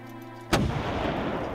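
Cannon blast in the VR platformer game The Tower VR: a single sharp, loud boom that cuts in abruptly after a quiet lead-in and trails off into a rumbling decay.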